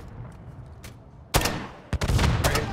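Call of Duty: Modern Warfare 3 gunfire cracks out in sharp bursts: a faint distant shot, then a loud close volley and a second rattling string over a low background rumble.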